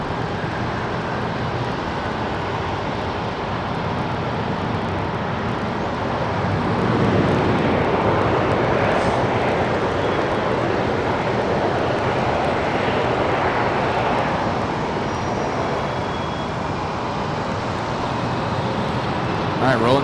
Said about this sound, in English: rolling down the runway, Southwest 875 to San Diego to 737-700